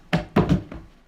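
Foley for a person falling down stairs: three or four close, dull thumps of body and cloth hitting steps in quick uneven succession, fading out at the end.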